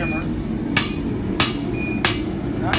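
The flat face of a hammer taps lightly along the edge of a hand-forged chef's knife. Four crisp metallic ticks come at even, unhurried intervals over a steady low background hum.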